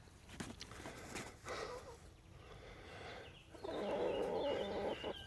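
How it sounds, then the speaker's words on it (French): Faint clucking and short calls from a rooster and newly arrived laying hens nearby, coming in bursts with a louder cluster near the end, over a quiet background. "Donc là, le coq vient les accueillir"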